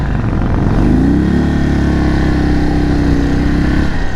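A 2022 Indian Chief Dark Horse motorcycle engine in sport mode accelerates hard up close, its loud roar climbing in pitch, then holding a steady high drone for a few seconds before easing off.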